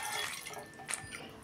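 One bowl of milk is poured into a pot on the stove, a short, soft liquid trickle and splash heard close up.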